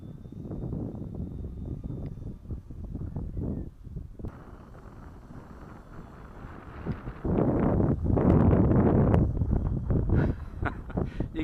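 Breeze buffets the microphone outdoors while a model plane with a timber prop and electric motor is flown, gusting rumble rising and falling, heavier near the end, with no clear motor tone above it.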